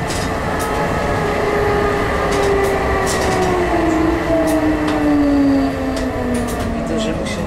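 A rail vehicle on line 27 in Munich rolls along steadily with a continuous, close rumble and gliding tonal whine that rises and falls; people talk quietly in the background throughout.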